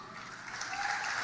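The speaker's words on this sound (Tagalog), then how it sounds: "talaga, may mga palakpak pa yan." Brief applause from a church audience during a sermon, a dense, even burst of clapping that swells slightly and continues throughout.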